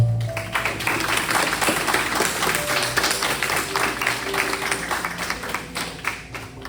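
A church congregation applauding during a Sunday service, steady overlapping clapping from many people with a rhythmic, tapping texture, fairly loud and close.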